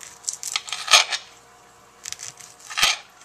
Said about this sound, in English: just start cutting at an angle your sausage into pieces